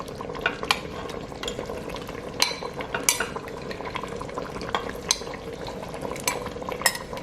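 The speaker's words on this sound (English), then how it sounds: "now what I'm going to do is add my vegetables back" Vegetables being stirred back into an Instant Pot of oxtails, with a steady wet sizzle and scraping under repeated sharp clinks of a utensil against the metal pot, close and moderately loud.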